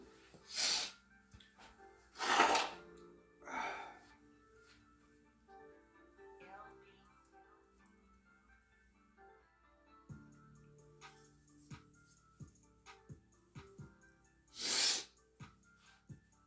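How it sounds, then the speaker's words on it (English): A person blows their nose several times in a quiet room, short forceful nasal bursts spaced apart with a last one near the end, mixed with faint breathing and small ticking noises. "Let me blow my nose first."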